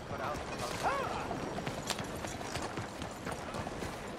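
Horse hooves in the video game Red Dead Redemption 2 clip-clop in a steady rhythm over a busy, gritty background with a few faint creaks, moderately loud and continuous.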